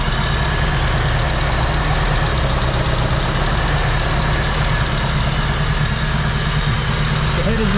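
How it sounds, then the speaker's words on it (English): A Honda D16 VTEC big-cam race car engine with a carbon fiber intake and new headers idles loudly and roughly, its steady, throbbing rumble carrying strong intake induction noise without pause. "You can hear from here the intake sucking, because those valves are opening more, it's sucking in more air. Very loud induction noise."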